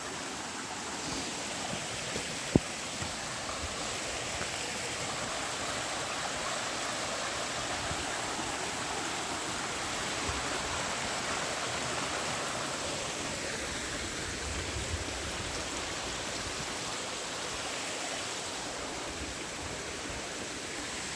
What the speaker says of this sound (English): Might just be a view to the smaller waterfall.